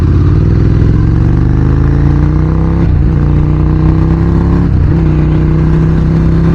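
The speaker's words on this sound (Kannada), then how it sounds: "ನನ್ನ ಬೈಕ್ ಅಣ್ಣ ಓಡಿಸ್ತಿದ್ದಾನೆ ನೋಡಿ." A motorcycle engine roars steadily while being ridden, loud and close, with a sustained drone that dips briefly twice as the rider shifts or eases the throttle, and no talk over it.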